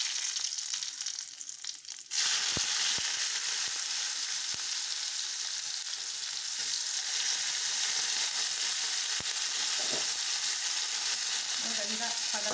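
Mustard seeds crackle and sizzle in hot oil for a Kerala-style chickpea curry. A steady, dense frying hiss fills the pan after a brief quieter start, with scattered sharp pops throughout and no talking.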